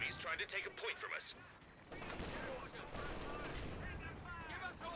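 A mortar fires in a competitive 2v2 video game match, mixed into a dense wash of booming artillery and rattling gunfire, with a commentator talking over the battle.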